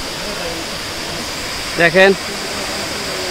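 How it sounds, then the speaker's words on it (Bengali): Double Falls waterfall at Ruma in Bandarban roars as a constant broad rush of falling water, with a man's brief spoken words rising over it near the middle. "আমরা এই যে ডাবল ফলস ঝর্ণা এসে পৌঁছালাম"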